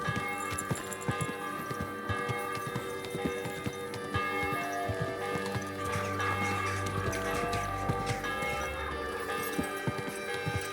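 Steady clip-clop of horse hooves trotting at an even rhythm in Kingdom Come: Deliverance II, with faint bell-like tones and ambient hum in the background.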